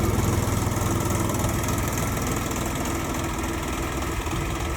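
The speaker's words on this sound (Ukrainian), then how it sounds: "І візуально звук роботи двигуна." A Jinma 244 tractor's diesel engine idles at reduced revs, a steady, continuous low rumble with a faint knocking texture, close and constant throughout with no talk.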